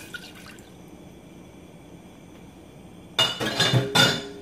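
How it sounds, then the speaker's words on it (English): Apple cider vinegar goes into a pot over high heat, first as faint drips and clinks, then a loud splashing pour with metallic rattles near the end, alone and close. "I'm gonna go ahead and add my apple cider vinegar"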